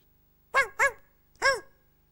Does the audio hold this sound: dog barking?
yes